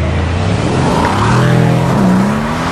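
A V8 car engine roars loud and close in a steady sustained rev, its pitch rising and falling slightly with the throttle, with no speech.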